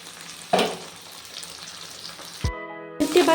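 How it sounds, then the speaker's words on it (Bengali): Shrimp frying in hot oil in a wok, a continuous sizzle with sharp bursts of spitting as pieces are stirred or turned, close and loud with no talk. "চিংড়ি মাছটা দিয়ে আমি চিংড়ি মাছগুলো একটু ভেজে নিই।"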